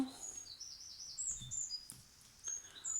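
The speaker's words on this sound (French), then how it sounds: "On remercie les oiseaux pour la petite musique de fond." Small birds chirp and sing in the background, a scatter of faint, high tweets and short trills over quiet room tone.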